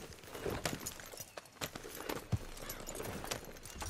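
A horse's hooves clip-clop along a path in the video game Red Dead Redemption 2, a steady, uneven walking rhythm of soft thuds, moderately near, over a faint ambient background.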